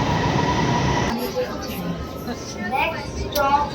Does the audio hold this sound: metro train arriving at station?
yes